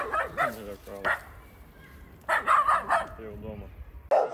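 Stray dogs held for a week after surgery at an animal sterilisation centre in Rivne, Ukraine, bark and yip in several sharp bursts. The bursts are close and loud, with quieter gaps between them.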